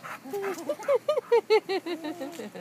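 A dog makes a series of short, high whining yips and whimpers in quick succession, close by, with a little background noise.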